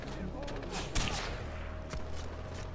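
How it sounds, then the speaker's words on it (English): Gunfire in the first-person shooter Far Cry 4, steady crackling bursts over a busy combat backdrop with a sharper shot near the one-second mark, while a voice talks underneath. "I'm still getting shot and hurt quite badly"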